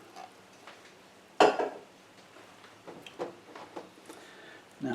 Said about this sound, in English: Now just keep stirring this around till it starts to thicken up